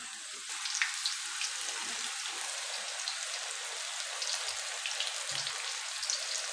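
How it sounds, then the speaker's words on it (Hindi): Chicken strips coated in flour and baking powder frying in hot oil over medium heat, a steady dense crackle and hiss that runs close and even throughout with small pops, no voices. "आइए हम इसको फ्राई करते हैं जी। तो हमारा ऑयल गर्म हो चुका है। अब हम इसमें चिकन डालेंगे।"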